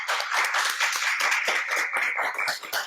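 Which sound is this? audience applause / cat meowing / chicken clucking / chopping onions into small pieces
audience applause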